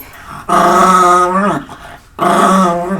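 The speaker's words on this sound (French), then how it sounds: "Voilà mon petit chien." Small dog growling close and loud in two sustained rumbling bursts separated by a brief pause, with no talk over it.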